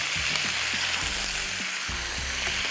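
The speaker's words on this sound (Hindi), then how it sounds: "इसमें हम सबसे पहले मटन शामिल कर रहे हैं और इसको थोड़ा सा ज़रा भुनेंगे तेज़ आँच पर 5 से 10 मिनट।" Mutton frying on a high flame in a pot for Delhi-style biryani, a loud, steady, close sizzle with bursts of crackling and occasional stirring scrapes.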